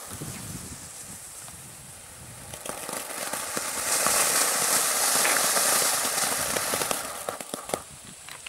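A fire pot firework bursting outdoors at dusk, a rising roar of crackling and hissing that swells in the middle and then dies back down, loud and close with no talk over it.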